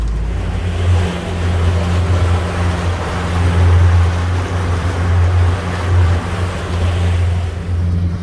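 A boat motor putters steadily at 2,500 RPM, about 7 miles an hour, on the run out to Manitou Island on Lake Superior. The low engine drone is loud and constant, with water rushing along beside it.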